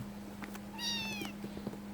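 A kitten, one of a household's grey and black cats, gives a single clear, high meow close by, with a quiet steady hum underneath.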